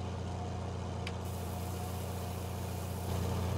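A tractor-driven feed mixer running in Farming Simulator 19, a steady mid-pitched engine drone with mechanical hum, constant and close, with no talking.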